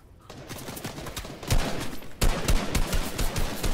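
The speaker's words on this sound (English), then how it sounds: "Oh, we're getting shot at." Rapid Fortnite gunfire builds from quiet into dense, loud bursts of shots that grow heavier partway through and continue steadily to the end.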